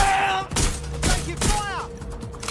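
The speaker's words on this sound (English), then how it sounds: "They won't stop shooting! I'm under fire!" Gunfire in the Watch Dogs Legion video game, several heavy shots and thuds mixed with game voices and sound effects, loud and close.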